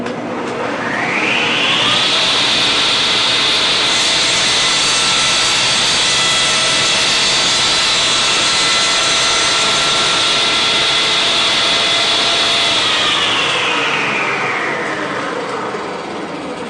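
Shopsmith saw cutting a bevel miter in wood, a loud continuous high whine that builds at the start, holds steady through the cut and tapers off at the end.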